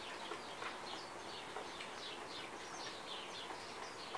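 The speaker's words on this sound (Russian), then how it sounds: "Слышите, птицы поют?" Birds in early spring sing with cheerful, repeated chirps and short whistled phrases, moderately distant over a steady outdoor hiss, with no voices.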